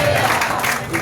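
A crowd clapping together at a Sindhi community gathering, a dense, loud wash of applause over a short stretch with voices mixed in.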